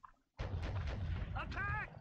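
Gunfire in a PS2 shooter set against German soldiers: a sudden loud burst of shots and impacts kicks in after a brief quiet moment, with ringing tonal effects near the end.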